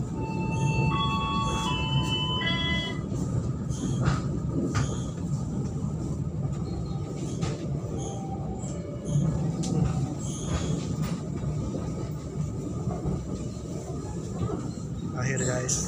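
A passenger train at Malang Station rumbles steadily as it rolls in and slows to a stop, with faint wheel squeals and tonal announcement chimes, while a recorded voice speaks over the continuous noise.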